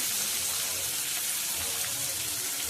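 Onions frying in oil in a pan, a steady soft sizzle throughout with no pauses or talk.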